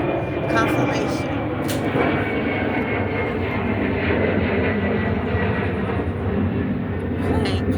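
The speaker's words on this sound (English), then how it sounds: "Plane flying above." An airplane flies overhead near an airport, a broad roaring engine drone that holds steady and fairly loud across the whole stretch, with a voice talking over it.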